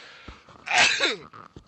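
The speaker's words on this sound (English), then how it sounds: "The sneezing just won't go away" A single loud, close sneeze bursts out mid-clip, with a sharp breathy onset and a short voiced tail, framed by quiet breathing and small mouth sounds.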